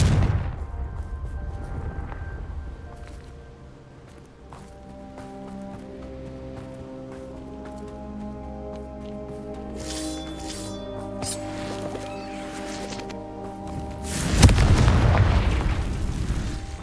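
A Confringo fire spell goes off in the Hogwarts Legacy video game, with a loud booming burst near the end that follows a long stretch of layered music and softer combat effects.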